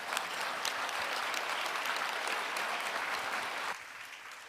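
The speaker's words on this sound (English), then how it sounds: "So I kindly ask you to give those speakers a big round of applause." Conference audience at a defense dialogue plenary session applauding steadily, a dense wash of clapping throughout that drops to a quieter level near the end.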